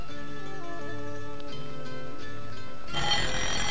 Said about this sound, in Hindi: दाऊद साहब के सोने का अलार्म बज गया